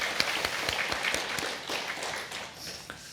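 A crowd applauds steadily at a Won Buddhist temple ceremony, many hands clapping at moderate volume, tapering off slightly toward the end.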